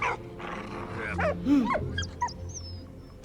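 A dog in the Valiant Hearts video game growls low and lets out a few short whimpering yelps, rising and falling over about three seconds, set against a faint background ambience.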